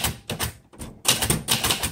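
Rapid keystrokes clatter on a 1962 Royal Custom manual typewriter, a dense burst of close, sharp clicks that pauses briefly before resuming at a brisk, uneven rhythm.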